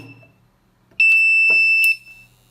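A single piercing electronic beep sounds for about a second as a FrimeCom V-1500 UPS starts up after transformer rewinding, over a quiet background with faint clicks.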